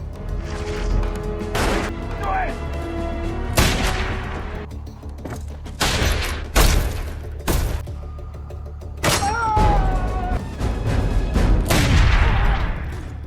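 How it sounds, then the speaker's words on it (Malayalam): A series of loud gunshots and booming blasts in a Western cowboy action film, irregularly spaced, with crackling debris and dramatic sound effects between them. "കൃത്യമായി ഉന്നം കെട്ടിയ ഹെൻറി ജോണിനെതിരെ വെടിവെച്ചു."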